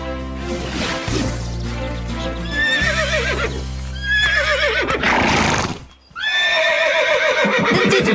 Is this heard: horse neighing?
yes